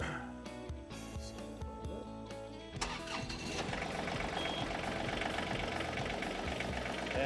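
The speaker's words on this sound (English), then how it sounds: "he's going to drive the tractor straight back" A few mechanical clicks and thumps, then a John Deere tractor engine cranks and catches, settling into a steady, rumbling run close by.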